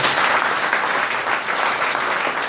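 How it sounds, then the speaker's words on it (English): Dinner audience at a community Ramadan iftar event gives steady, dense applause, close and even throughout with no talking over it. "Let's give Matt another round of applause."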